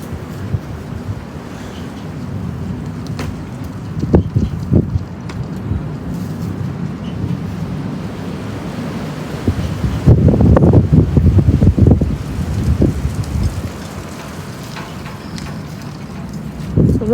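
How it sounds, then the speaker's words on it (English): Strong 20-30 mph wind roaring and buffeting the microphone on an afternoon, with louder gusts swelling partway through, then easing to a steady blustery rush. "The wind is not as strong right now, but I think it'll pick up again."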